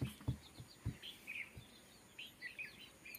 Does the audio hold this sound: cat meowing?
no